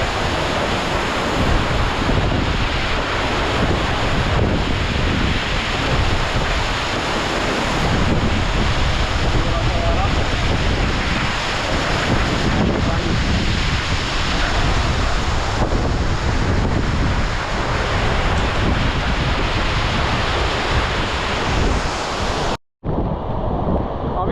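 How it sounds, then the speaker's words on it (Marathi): A loud, steady roar from a tall waterfall in the Konkan region of India fills the whole stretch without letup, broad and noisy with wind buffeting, cutting off abruptly near the end. "जबरदस्त वेगाने हा धबधबा वाहतो"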